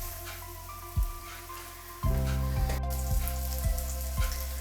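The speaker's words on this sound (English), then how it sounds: "we will have to fry our syrniki so that they have a little crust on them" Syrniki, Russian cottage cheese pancakes, sizzle and crackle steadily in a hot frying pan, with a few soft thuds as pieces are set down and the frying grows louder.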